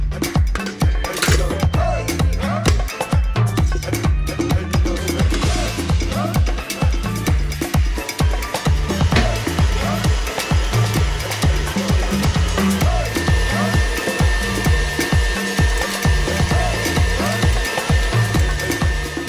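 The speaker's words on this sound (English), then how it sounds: "With a whisk, cream the butter with the sugar." Butter being creamed with sugar using a whisk for butter cookie dough, a loud, fast, rhythmic scraping and beating that continues steadily without pause throughout.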